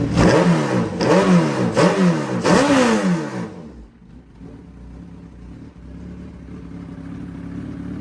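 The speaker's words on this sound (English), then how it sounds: "It's disconnected, as you can tell. And the bike runs pretty freaking" A motorcycle engine running with its throttle position sensor disconnected, revving loudly in four quick rising bursts close by, then dropping to a quieter, uneven idle.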